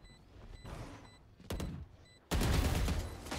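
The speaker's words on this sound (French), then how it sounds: "Moi, je tire." Gunfire from a weapon in the video game Valorant comes as short bursts of shots followed by a loud, sustained spray of fire toward the end.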